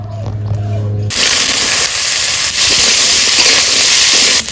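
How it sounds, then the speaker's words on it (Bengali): Boiled young jackfruit pieces hit hot oil and set off a loud, sustained sizzling hiss that starts abruptly after a brief low hum and continues steadily at close range. "তো ইঁচড়টা প্রথমে একটু ভেজে নেব।"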